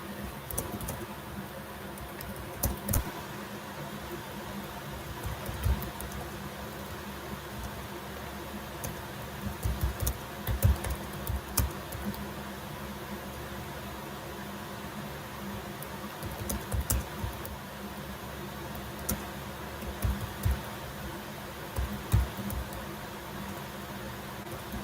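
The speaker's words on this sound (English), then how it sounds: "Please forgive me here as I'm typing so I can make everything clearer for everybody." Typing on a computer keyboard during an online lecture, a soft, irregular patter of key clicks with occasional louder bursts over a faint hiss, fairly quiet and close, with no talk.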